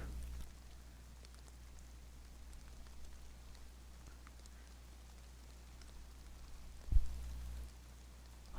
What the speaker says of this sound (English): It just rains like crazy.